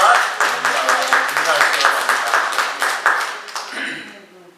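A church congregation claps at length during a Sunday morning service in honor of elderly parents, a dense steady patter of many hands that fades out toward the end.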